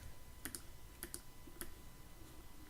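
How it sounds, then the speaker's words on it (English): Quiet, sparse computer keyboard key presses, a few crisp isolated clicks spaced irregularly over a steady faint room hum, no voices. "I'm going to hit W on the keyboard so I can"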